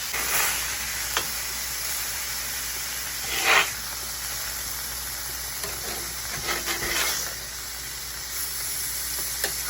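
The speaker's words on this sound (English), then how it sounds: "Cook your burgers to the level of doneness that you like." Burger patties cooking in a pan give a continuous close hiss of sizzling fat, with a few brief louder spits and crackles scattered throughout and no voices.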